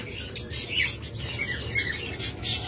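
A pet bird splashes in a bath, fluttering water with quick wet flaps and bursts of spray, punctuated by short chirps, fairly close and continuous for a few seconds.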